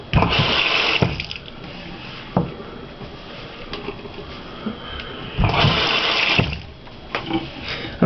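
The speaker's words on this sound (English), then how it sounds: "adding a little more water before I wrap" Water is sprayed or poured onto hair before a wet wrap styling, with hissing bursts that start and stop several times over a steady background noise.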